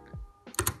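Keystrokes on a computer keyboard while typing a terminal command, a short cluster of two or three close, crisp clicks after a brief quiet pause, with no talking.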